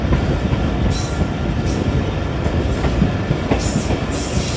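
A passenger train on Pakistan's ML-2 line, the Attock Passenger, rolls along the rails with a loud, steady rumble of wheels and brief high metallic squeals.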